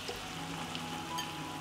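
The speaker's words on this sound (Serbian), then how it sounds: "i nastavit ću da pržim još 5 minuta" Meat sizzling in hot oil in a pan with softened onion and garlic, a steady quiet frying hiss with faint crackles throughout.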